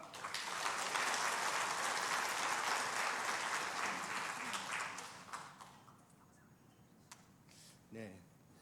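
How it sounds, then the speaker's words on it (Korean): A church congregation at a Sunday service claps in broad applause to welcome a missionary, loud and sustained for about five seconds before fading into quieter room sound and a brief voice near the end. "우리 선교사님 나오실 때 큰 박수로 환영하시겠습니다"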